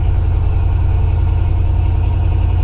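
Cammed V8 engine of a Jeep Wrangler JK idling, a loud, close, deep rumble with a steady lumpy pulsing throb throughout and no talking.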